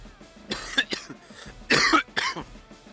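Several harsh, close coughs come in uneven bursts, one short cough followed by a louder cluster of two or three rough hacks with brief pauses between them, with no talking.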